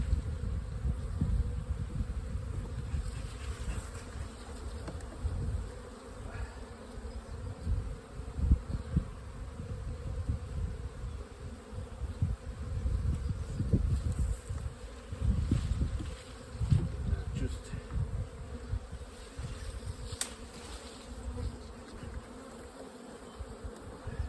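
Honeybees buzz in an open hive during a nectar dearth, a dense continuous low hum that swells and fades with individual bees passing close.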